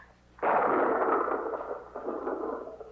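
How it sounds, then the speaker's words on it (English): A loud, sustained rumble of thunder rolls in suddenly and holds for over two seconds, swelling slightly again near the end, with no voices. "Thunder seems louder tonight."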